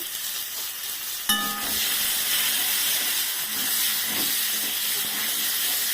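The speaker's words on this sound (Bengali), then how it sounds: "আমি আগে কুমড়োটা ভেজে নিচ্ছি।" Pumpkin pieces frying in hot oil, a sharp clatter as they drop in and then a steady loud sizzle and hiss with occasional stirring.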